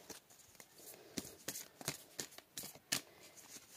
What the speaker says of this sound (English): I will now shuffle this deck